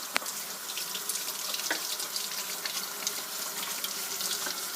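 Warm tap water runs steadily into a sink while a rubber printing block is washed with a small brush, a continuous faint hiss and splash with a sharp tap near the start.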